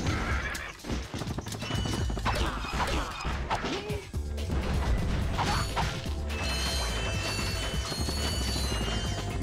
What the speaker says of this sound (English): It's getting a little tedious trying to break all these boxes manually with the wrench.